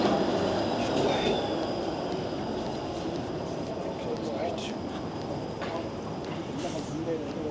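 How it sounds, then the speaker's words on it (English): A Toronto 505 streetcar passes on a city street on a holiday afternoon, its steady rumble and rail noise filling the scene with a faint high wheel squeal, while people talk in the background. "Here's the 505 streetcar going to Yonge-Dundas."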